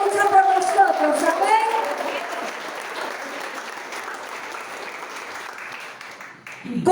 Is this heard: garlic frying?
no